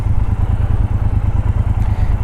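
A 2021 Triumph Bobber Black motorcycle idles close by with a throaty exhaust, giving a steady, loud low-pitched burble made of rapid, even pulses and no pauses.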